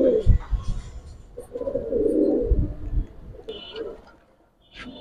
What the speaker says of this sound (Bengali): 4 নাম্বার সিলভার বেজি কবুতর।